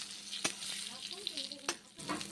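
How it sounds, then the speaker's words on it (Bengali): Eggplant slices fry in hot oil with a constant crackling sizzle and a few sharp pops. A faint voice murmurs now and then underneath. "বেগুনগুলোকে দু পিট ভালো করে ভেজে নিচ্ছি"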